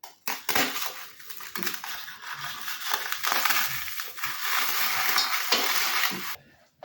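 Plain cookies are broken up by hand into a pan of melted chocolate and butter, giving dry crisp crunching and snapping that runs steadily for several seconds, close and fairly loud, with brief pauses.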